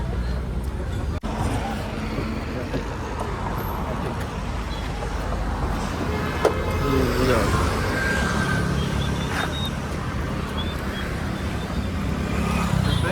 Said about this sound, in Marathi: आता निघालो आम्ही, कार काढत आहेत.